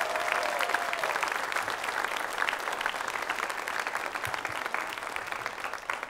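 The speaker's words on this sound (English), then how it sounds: "Round of applause for them again." Audience applause at a Japanese taiko (Harrisen Daiko) performance event, a steady, even wash of many hands clapping at moderate distance, sustained without pause.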